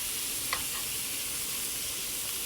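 Meatballs browning in preheated oil in a pan, giving a steady, even sizzle and frying hiss throughout, with a faint brief clink near the start.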